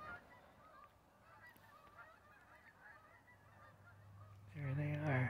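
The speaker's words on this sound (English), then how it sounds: "Geese. The geese are returning." Distant geese honk faintly over a low background hum, then a louder burst of honking calls comes in close at the end.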